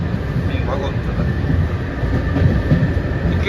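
Passenger train on the Astana to Almaty route rumbles steadily from inside a carriage, a loud continuous low roar with faint rhythmic wheel clatter throughout.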